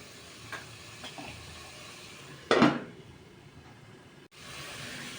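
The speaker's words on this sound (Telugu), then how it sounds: "క్యారెట్, కాలీఫ్లవర్ ముక్కలు వేసాము. ఒకసారి కలుపుకుందాం." A spoon stirs carrot and cauliflower pieces in a cooking pot, giving one clear scraping swirl amid faint ticks and a quiet kitchen hum.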